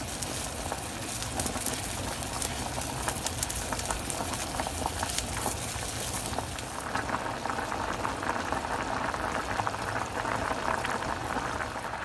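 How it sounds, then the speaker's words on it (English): Goya red kidney beans boil in a pot of water on a stove, a loud, continuous bubbling and popping close by, steady throughout with no voices. "So we're gonna let this boil and then we'll come back."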